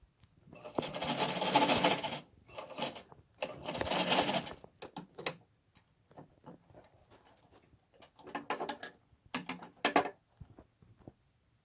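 Short bursts of sewing machine stitching on a cotton face mask start and stop several times, with clicks and mechanical handling noises between runs, heard close up.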